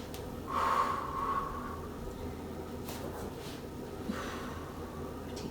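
Heavy exercise breathing during a Pilates core workout: a strong snorting breath near the start, then quieter sharp inhales and exhales, close and unaccompanied by speech.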